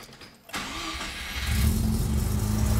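An old carburetted Mazda RX-7 SA22C engine, started on choke, cranks briefly, catches, and settles into a loud, rough idle close by.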